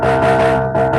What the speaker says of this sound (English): Bass will sound like this.